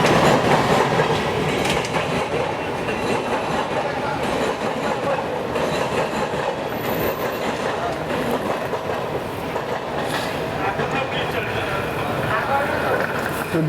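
The Saurashtra Janta Express from Veraval to Bandra Terminus runs along the tracks with a steady rumble and faint rhythmic clatter, heard continuously from inside the train with voices in the background.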